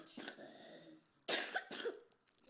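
A five-year-old child with a persistent months-long cough coughs a few times at close range, one softer cough followed by two sharper, louder bursts.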